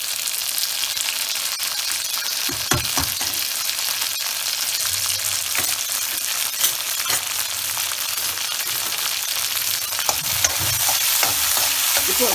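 Turkey berries stir-fry in a hot pan with spluttered mustard seeds: a steady hiss of frying, broken by occasional scraping strokes of a spoon and small pops.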